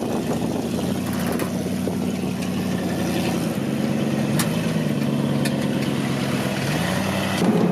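An old Willys jeep engine idling roughly and rumbling close by, with slight shifts in pitch as it revs gently; no voices.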